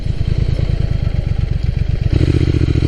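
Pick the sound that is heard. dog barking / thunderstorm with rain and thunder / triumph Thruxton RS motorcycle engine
triumph Thruxton RS motorcycle engine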